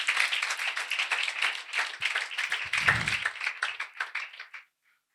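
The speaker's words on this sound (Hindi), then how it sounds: "जोरदार ताली बजाएंगे खुदा के जलाल के लिए।" A church congregation claps loudly and steadily at a New Year's Eve service, a dense burst of many hands that holds for about four and a half seconds before stopping abruptly.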